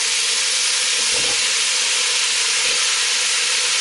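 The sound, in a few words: onions and aromatics frying in a pan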